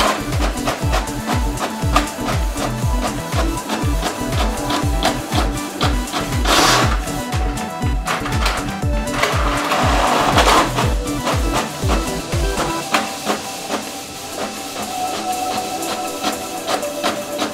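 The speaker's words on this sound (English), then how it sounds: "Printing for you now." Canon PIXMA TS8320 inkjet printer printing a quick reference guide, rhythmic mechanical chattering and clacking of the print head close up, with whirring paper-feed passes, then a quieter, smoother motor hum near the end.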